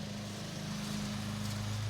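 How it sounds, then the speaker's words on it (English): A lawn mower cutting a farm field runs at a steady engine drone, close and constant with no talk over it. "out there mowing the back 40."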